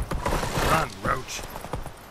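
A horse gallops in the video game The Witcher 3, with quick rhythmic hoofbeats under a man's speech in a brief clip.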